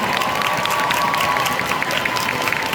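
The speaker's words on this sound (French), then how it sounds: "On peut l'applaudir encore une fois." Audience at a French cosplay championship, the Coupe de France, gives a cosplayer a round of applause, a dense, continuous wash of clapping and cheering from a crowd.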